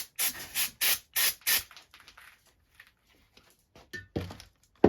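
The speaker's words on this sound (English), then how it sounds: "So just brake cleaner." Brake cleaner sprays from an aerosol can in six short, loud bursts at a steady rhythm, followed by quieter rubbing and tapping sounds with no talk.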